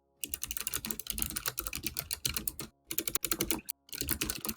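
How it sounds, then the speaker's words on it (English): Rapid, clattering keystrokes on a computer keyboard, close and steady, with a couple of brief pauses between bursts. "we can super hear you typing"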